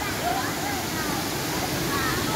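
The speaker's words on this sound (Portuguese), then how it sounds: "Nota 10 pra cachoeira do Ipiranguinha" The Ipiranguinha waterfall in Ubatuba roars with a constant broadband wash of falling water, close and steady throughout, with faint voices mixed in.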